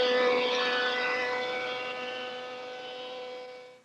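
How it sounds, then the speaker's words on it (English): A surface planer planes boards sawn from old beams, a loud steady mechanical whine with strong harmonic drone that slowly fades and cuts off at the end, with no talk. "the first step is to run these pieces through my surface planer until I get them down to the thickness"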